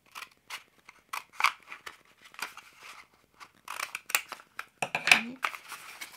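Scissors snipping through folded cardboard paper towel rolls at a crafting table, a series of close, crisp cuts and crunches in an irregular rhythm, with short pauses between snips.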